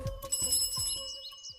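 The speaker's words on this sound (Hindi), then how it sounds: "सर वो तो घंटी बजाता हुआ साइकिल पे चला गया।" A bicycle bell rings in a short rapid series of bright metallic dings that fade out, heard alone and fairly clear.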